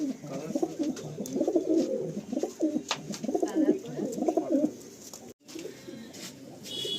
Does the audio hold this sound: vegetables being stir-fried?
no